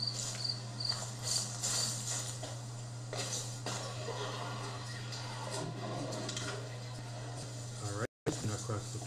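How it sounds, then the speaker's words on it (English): Crickets keep chirping in a darkened forest in the game Slender: The Arrival, a steady insect drone under a low hum while someone talks over it, broken by a brief dropout near the end. "Crickets."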